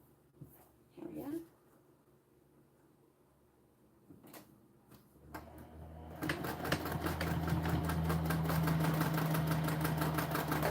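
A sewing machine stitches the grab handle of a bag 1/8 inch from the edge. After a few quiet handling noises it starts up midway and runs as a loud, steady, close whirring drone until the end.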